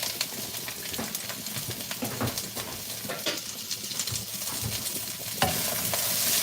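Green peppers sizzle hard in a hot pan for a quick Chinese-style curry, with steady frying crackle and repeated scraping stir strokes throughout, loud and close, no talking.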